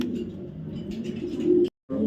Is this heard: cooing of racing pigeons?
yes